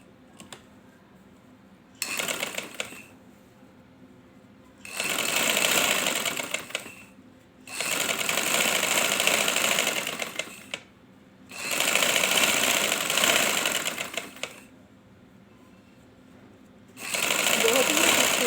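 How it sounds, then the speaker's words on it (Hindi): Sewing machine stitching a patch onto a garment neckline, running in four or five bursts of several seconds each with short quiet pauses between, close and fairly loud. "ये हमारे गले का जो है वो पैच मुकम्मल कर रहे हैं। एक सिलाई लगा ली, अब दूसरी लगाएंगे।"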